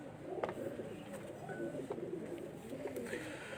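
Pigeons coo in a low, throaty murmur on a rooftop loft, several birds overlapping in a steady, continuous burble at moderate distance with no voices over them.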